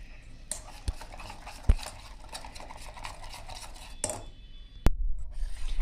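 A utensil stirs gram flour batter with buttermilk in a metal bowl for khandvi, giving soft scraping swirls with a few sharp clinks. It sits close and fairly quiet.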